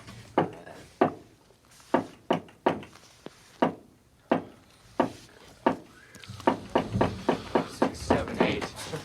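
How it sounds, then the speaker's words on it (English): Repeated knuckle knocks on a wooden door, a patterned sequence of sharp, close thuds in spaced groups, with a faster run of knocks toward the end amid some background noise. "Here, I'm going to do the knock."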